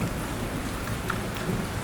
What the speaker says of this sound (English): the first drops of rain began to fall around